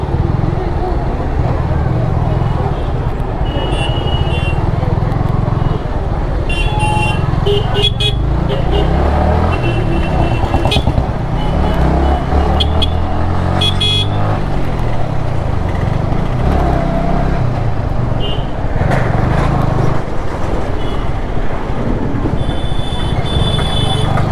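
Road traffic near the old bus stand in Solan, Himachal Pradesh, heard from a moving motorbike: a steady engine and road rumble with scattered car horns honking, while people talk over it.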